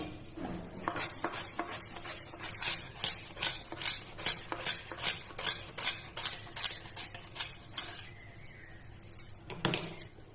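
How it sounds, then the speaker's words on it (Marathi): Rhythmic strokes of a handheld slicer cutting banana into chips, around sixteen evenly spaced scraping swishes in a steady run, close and clear, with no talking. "आता स्लायझरच्या साहाय्याने केळीच्या चकत्या काढून घेऊया आपण।"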